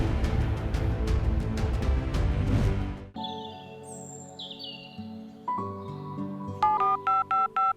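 On a DD Kisan farming call-in broadcast, a quick series of short, clear telephone dialing beeps follows a stretch of music and electronic tones as a caller connects.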